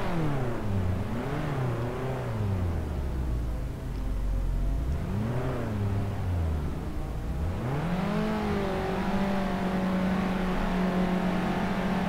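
Race cars launch at the Nürburgring in the Assetto Corsa sim, engines revving hard through repeated rising upshifts, close and loud, with no talk over the whining drone.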